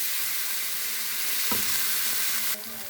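Tomatoes dropped into hot oil with crackling mustard seeds send up a loud, dense, close-up sizzle that holds steady, with a brief stir midway and a sudden brighter hiss surge near the end.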